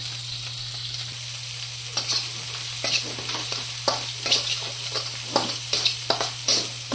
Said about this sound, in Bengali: এটা আর একটু কষিয়ে নেব, একদম শুকনা শুকনা করে ফেলবো এটা।